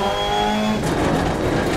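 Ford Focus RS rally car engine in DiRT Rally 2.0, a loud buzzing engine note holding steady and then shifting into a rougher, gravelly surge.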